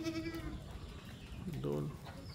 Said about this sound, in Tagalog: Yung mga kambing natin oh, sa goat house.